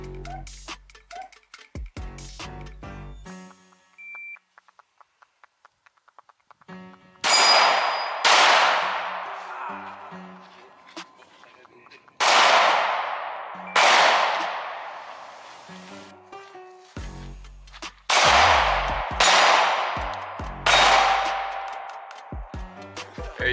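Close, loud pistol shots from a Glock 19 at an outdoor shooting practice range, fired singly and in quick pairs across several seconds, each crack ringing out with a short decay, after a quieter stretch of small clicks and handling noise.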